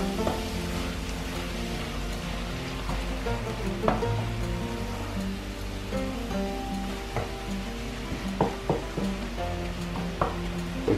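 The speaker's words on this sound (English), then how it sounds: "So just let that simmer a little" Vegetables for a vegan meatloaf simmering in a pan, a soft steady sizzle with small bubbling pops under tonal background music.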